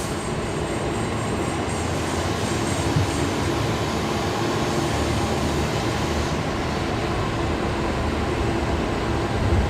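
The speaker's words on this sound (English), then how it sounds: "So Qantas 196 taxiing down Alpha because they're going up to International, aren't they?" A Qantas airliner just in from Wellington taxis at Brisbane Airport, giving a steady, loud, broadband engine roar that holds evenly throughout with no speech.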